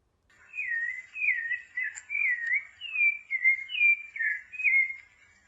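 Clear, whistled song phrases of a rufous-bellied thrush, repeated in a run of about eight rising and falling notes, close and clean with no other sound.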